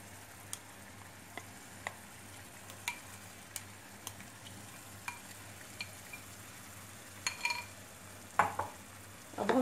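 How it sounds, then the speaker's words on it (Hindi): Mango pulp stirred and roasted in ghee in a pan over a low to medium gas flame, giving a quiet steady sizzle under a faint hum, with soft spoon taps at regular intervals and louder scraping near the end. "हम इसको अच्छी तरीके से भूनेंगे।"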